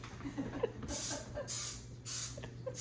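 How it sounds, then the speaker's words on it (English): Paint is sprayed onto a container in three short hissing bursts, each about half a second long and evenly spaced, heard close up over a faint steady background hum. "And you spray them with paint."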